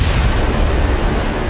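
A massive explosion rendered as the Big Bang, a loud, sustained, deep roaring rumble that fills the whole stretch without any break or voices.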